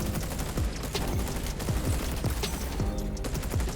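Dense, continuous automatic gunfire from a turret in the shooter game XDefiant, rapid overlapping bursts and shots filling a chaotic firefight, loud and steady throughout with no voices.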